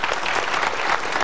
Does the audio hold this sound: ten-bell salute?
no